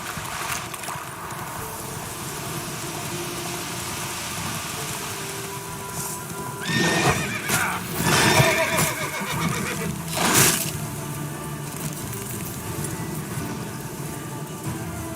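Horse in The Witcher 3 neighing loudly over a soft, steady wash of rain-like ambience, with faint hoofbeats and a couple of strong whinny bursts near the middle.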